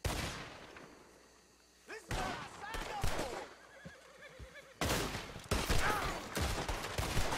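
A horse whinnying amid bursts of gunfire and hoofbeats in Red Dead Redemption II, loud chaotic shooting in stretches with someone talking between them.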